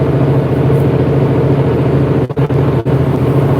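A truck engine idles nearby, loud and steady, a continuous low throbbing hum with a couple of brief dips near the end.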